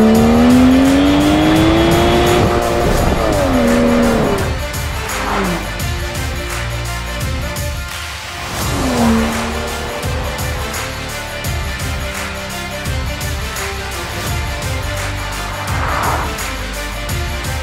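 Aston Martin DB11 engine fired up with a crystal start button, then revved hard several times, a loud, close mechanical roar with rising and falling sweeps that fills the whole stretch without talk.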